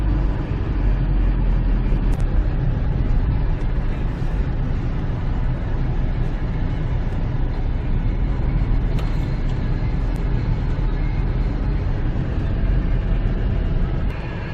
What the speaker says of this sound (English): So we're just going to drive nice and slow around this parking lot.